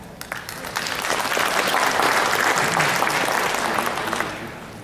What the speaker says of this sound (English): Can we give a big round of applause to my dear sister Yasmin once more?